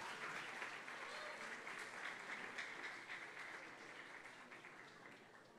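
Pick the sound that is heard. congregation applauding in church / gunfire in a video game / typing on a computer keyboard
congregation applauding in church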